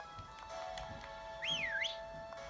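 A short rising-and-falling whistle from a character in Pokémon Sword, like a wavering two-tone call, over a quiet background with faint hoof-like taps and a steady tone.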